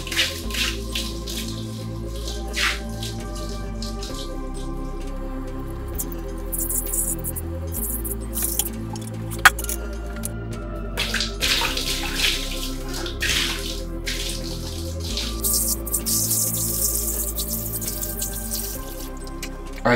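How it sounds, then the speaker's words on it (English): Water pours steadily into a plugged shower pan during a leak test on a Schluter Kerdi waterproofed shower, a continuous splashing and trickling stream with dripping, close and alone with no talk. "We're going to pour in about 5 to 10 gallons of water while the drain is plugged"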